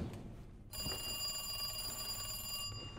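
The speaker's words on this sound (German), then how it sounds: "Ein Telefon." A telephone rings in the video game Resident Evil 2 Remake, a continuous trilling electronic bell that starts abruptly after a moment of low ambience and holds steady before cutting off, faint and alone.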